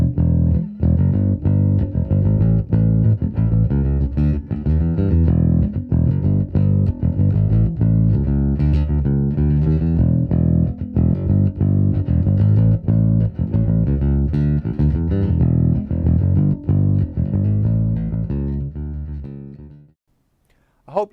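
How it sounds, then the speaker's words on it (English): Willcox Lightwave Saber SL bass played with a pick, a steady line of bright, punchy picked bass notes lasting about twenty seconds before it stops, loud and close with no talking. "The Lightwave also sounds great pick style."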